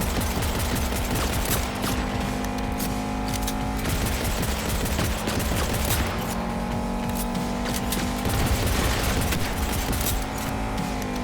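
Sustained gunfire in the game Cyberpunk 2077, loud bursts of rapid automatic shots repeating in waves over a droning engine-like hum, with no talking.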